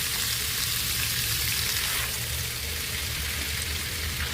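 A chicken breast sears in butter in a hot pan, giving a loud, steady, close sizzle with a constant crackling hiss throughout, no voices over it.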